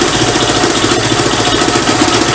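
A Kovi 300 Advance motorcycle engine runs at a steady idle after a fresh oil fill, close and loud with an even low throbbing rhythm and no talk.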